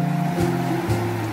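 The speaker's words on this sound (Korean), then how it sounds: "파도 소리를 듣고 싶네요." Sea waves roll onto the Jeju shore on a rainy day, a low continuous surging rush with two heavier swells washing in close by, no voices over the water.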